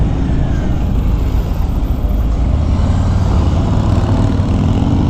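A 2021 Harley-Davidson Street Bob 114 motorcycle rolls on the throttle while riding, its engine giving a steady, loud, deep rumble with constant wind noise throughout.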